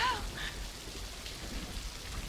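Steady rain falls in a scene from the Daredevil series, a constant wash of drops heard close and even throughout, with a few faint brief tones near the start.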